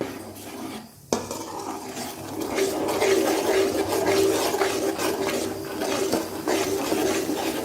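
A spoon scrapes and clinks against a pan as masala is stirred with added water for a chapathi side dish, a continuous close rasping rhythm after a brief pause near the start, with no talk.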